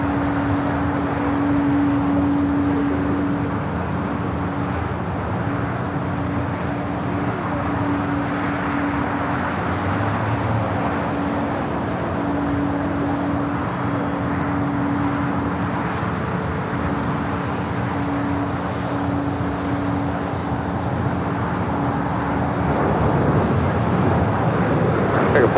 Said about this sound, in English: The flight coming up from Frankfurt in the beige beach livery.